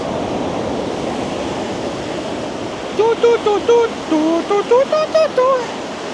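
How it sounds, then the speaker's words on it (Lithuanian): Ocean surf washing onto a quiet Sri Lankan beach in the early morning, a steady broad rush of waves, with a melodic sung or whistled phrase over it in the second half. "girdi tik bangų ošimą"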